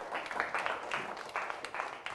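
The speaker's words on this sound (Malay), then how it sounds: "Tepuk tangan untuk Fatihah." A classroom of primary pupils applauds a classmate, a dense, steady patter of many hands clapping together for about two seconds with no one speaking.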